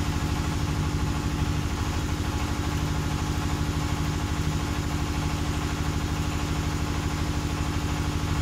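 On a Yamaha Mio J motorcycle, the electric starter motor spins on test with a continuous close, droning whir and a fine rapid pulse. It stays steady and even for the whole stretch, and no one speaks.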